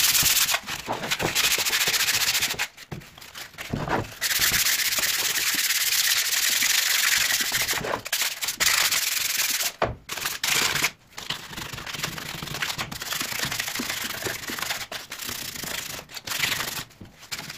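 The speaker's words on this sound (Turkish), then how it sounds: "Onu da zımpara makineyle yapacağım." A power sanding machine works on a Peugeot 105 engine part, a loud harsh whirring grind running in long continuous stretches broken by brief pauses, with no talk over it.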